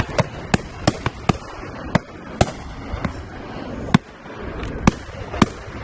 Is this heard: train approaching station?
no